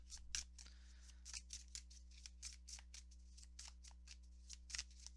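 Tarot cards riffle and flick in a steady run of crisp, close shuffling snaps over a low electrical hum, with no voices.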